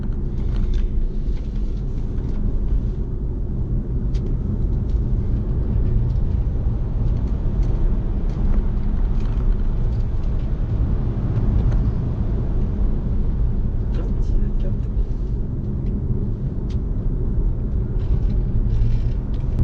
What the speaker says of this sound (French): C'est génial le bruit de turbine aussi, je trouve ça rigolo, ça change complètement l'expérience.